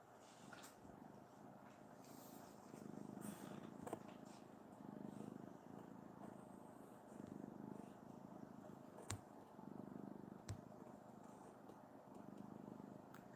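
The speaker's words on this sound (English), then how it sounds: "Oh, she's a purring girl." A female cat purring close by, a soft, rhythmic rumble rising and falling with each breath in a steady cycle, with a few faint clicks and taps in the background.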